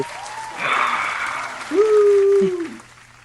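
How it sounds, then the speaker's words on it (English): A short canned clapping track plays under conversation on an umpire interview podcast, a brief burst of applause with voices talking over it. "We need our clapping track."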